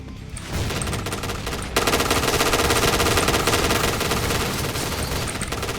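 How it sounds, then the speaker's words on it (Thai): Rapid machine-gun fire from the OA-93 Prime rattles continuously in a video game, loud and sustained, with bursts intensifying partway through and no talking. "เราได้ยินเสียงปืนนายหลายรอบแล้วเอ้ย"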